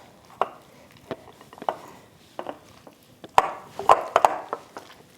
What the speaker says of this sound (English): I just stir it together this way